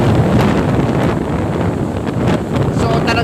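Strong typhoon wind roars steadily across the microphone in broadband gusts, loud and close, continuous for the whole span with no clear voices.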